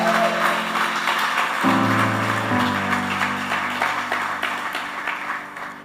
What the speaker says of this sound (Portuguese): Você pode aplaudir no seu lugar?